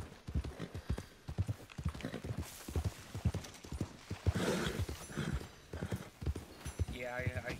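Rhythmic horse hooves clip-clop steadily throughout in the video game Red Dead Redemption 2, with people talking over them.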